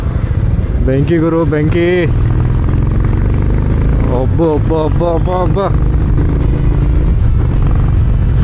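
A petrol Harley-Davidson X440 motorcycle pulls hard in second gear, its engine note climbing in repeated rising revs that swell and drop close by, with a rider talking over the ride.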